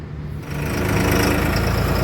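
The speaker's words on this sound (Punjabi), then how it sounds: "ਚੱਲ ਗਈ ਬਈ ਲਾਈਨ ਅੱਗੇ ਲੱਗੇ ਟਰੈਕਟਰ ਆਪਣੇ ਵੀਰ ਵਾਲਾ ਹੌਲੈਂਡ ਇਸ ਸਾਈਡ ਗਿਆ" A New Holland tractor idling in a queue, a steady low engine rumble that swells slightly louder after a brief quieter start and holds close and continuous.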